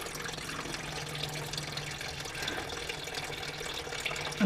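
Coolant drains from the radiator of a 2004 Vauxhall Vectra C with the filler cap off, a steady trickling and splashing stream of liquid, continuous and close, with no speech.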